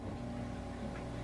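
A conventional model train engine runs with a steady low hum and mechanical rumble, faint and continuous throughout, with no voices over it.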